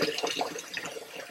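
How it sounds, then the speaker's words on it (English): Cold tap water runs into a pitcher already holding dissolved sugar for sweet iced tea, a steady close splashing fill that continues throughout. "we are going to fill the pitcher the rest of the way with cold water"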